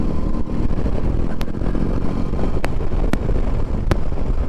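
Steady roaring wind buffeting the microphone while riding a 2022 BMW R18 Classic 1800cc boxer twin motorcycle, a constant low rush with the engine beneath and a few sharp clicks cutting through.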